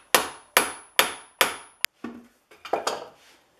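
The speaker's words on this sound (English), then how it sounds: "I've got a good tight fitting screwdriver." Screwdriver working the cap screw of a Stanley Bailey or Bedrock bench plane held in a vise: four evenly spaced sharp metallic knocks, one short snap, then softer scraping and creaking clicks, close and alone.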